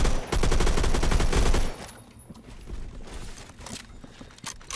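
Rapid automatic gunfire from Phantom Forces, a first-person shooter game, fires in a loud close burst lasting over a second, followed by quieter scattered shots and movement sounds.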